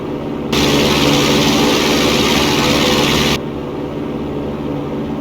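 Steady, loud propeller drone of a Piper Cherokee single-engine airplane climbing out after takeoff, heard from inside the cabin, holding one constant tone before dropping abruptly to a lower, quieter engine note.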